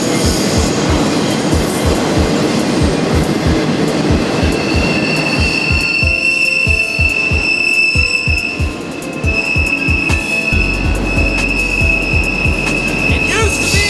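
A commercial train passes on tracks beside an old Baltimore station building, loud and close, with a rhythmic clickety-clack of wheels over rail joints and high, sustained wheel squeals that grow stronger as it goes by.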